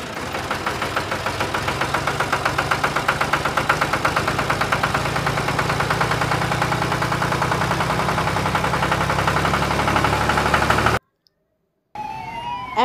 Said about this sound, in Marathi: ट्रॅक्टर,